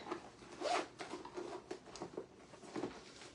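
A single zipper on a leather Trocadero handbag is pulled in short, soft rasping strokes, close and faint, with brief pauses between pulls.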